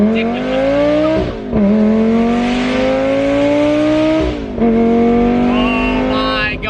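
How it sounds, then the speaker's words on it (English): A Lamborghini Gallardo V10 revs hard and loud, the pitch climbing in long pulls, with two brief drops between surges as the engine roars up again, close and dominant throughout. "That V10 sounds ridiculous"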